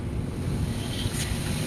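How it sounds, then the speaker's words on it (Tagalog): Sea waves wash onto the shore with gusting wind buffeting the microphone, a loud churning roar with no voices. "sa tabi ng dagat."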